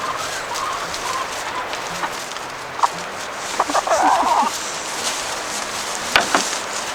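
Chicken clucking in a backyard coop, a few short clucks and soft calls rising over a low steady background, fairly close.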